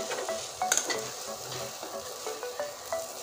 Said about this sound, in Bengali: একদম সুন্দর করে ভেজে নিয়েছি